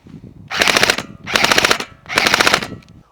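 KWA Ronin T10 airsoft electric gun on an 11.1 V battery, firing three loud, close full-auto bursts of rapid mechanical cycling, each about half a second long and separated by short pauses.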